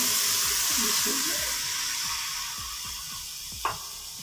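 Water poured into chicken frying in a karahi, a loud sizzling rush at first that settles into a softer bubbling hiss, with a single sharp clink near the end.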